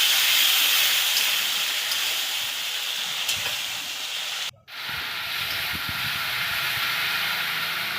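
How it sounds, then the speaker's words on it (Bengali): Spice paste with tomato fries in a pan after a splash of water is added, giving a loud, steady hiss that briefly drops out midway before resuming just as strongly. "মশলাটা যাতে পুড়ে না যায় তার জন্য এর ভিতরে একটু সামান্য জল দিয়ে আমি মশলাটা ভালো করে ভেজে নিলাম"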